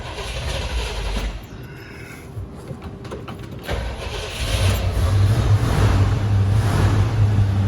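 A cold 1978 Ford Bronco engine cranking and catching, then settling into a loud, steady, rumbling idle close by, with a low throb that grows fuller toward the end.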